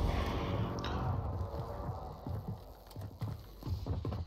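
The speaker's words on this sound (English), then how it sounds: "It's like a horse." Horse hooves in Call of Duty clip-clop in a quick, uneven rhythm close by, over a dense rumbling background.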